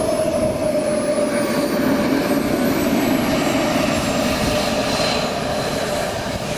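An F-15 fighter jet makes a low flyby at an airshow, a loud, sustained jet roar that holds steady throughout against a wide open-air background.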